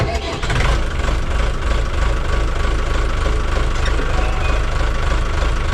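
A Scout TE 504-C tractor engine runs steadily while driving toward a paved yard, a loud, continuous rumbling drone close by with no pauses.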